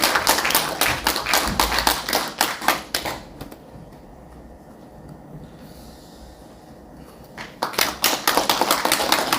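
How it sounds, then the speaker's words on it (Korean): At a symposium marking the 75th anniversary of the Korean War, an audience applauds in a crisp burst. The clapping fades to a quiet lull and then swells again near the end. "큰 박수 부탁드리겠습니다."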